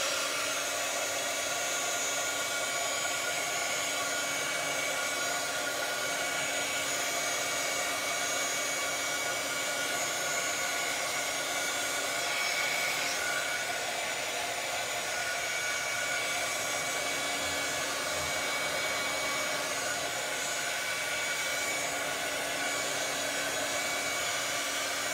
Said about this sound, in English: So if I get my heat tool and start pushing that ink around